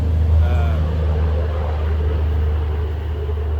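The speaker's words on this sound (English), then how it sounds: "Find a place with no truck noise." Low, steady rumble of truck traffic passing on a nearby road, carrying into a quiet wooded area as a constant drone with faint voices underneath.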